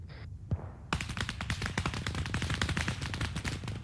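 Video game gunfire in a desert combat scene in Afghanistan, with sustained rapid automatic bursts, loud and close, following a couple of isolated single shots.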